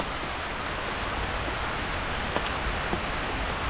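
Rain falls outdoors at a public cemetery as a soft, continuous hiss, faint and even throughout with a few slightly sharper drops.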